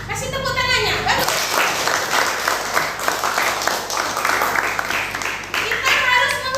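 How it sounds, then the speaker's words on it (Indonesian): Elementary school children clap together in a classroom in a loud, dense burst of applause, with a voice speaking over it at the start. "Ya, kasih tepuk tangannya."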